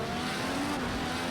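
An IndyCar in Project CARS 2 screams in first gear under full throttle at COTA, a brief, dense, high-pitched engine roar heard alone.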